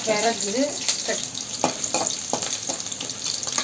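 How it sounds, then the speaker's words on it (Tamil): Chicken fries in a pan with a steady, close sizzle, broken by several sharp stirring scrapes and clatters; a voice is heard briefly at the start. "இது இந்த மாதிரி நல்லா கொஞ்சம் ஃப்ரை ஆகணும்"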